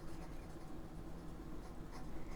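A 1940 Sheaffer Balance fountain pen with a fine 14k gold nib writes on paper, a faint, continuous smooth scratching close by over a steady room hiss, with no talking.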